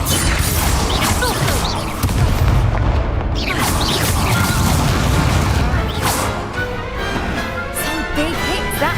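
Rapid bursts of spell explosions and crashing impacts in the Hogwarts Legacy game, including the Confringo fire spell, form a dense, loud, continuous battle barrage with a voice calling out briefly.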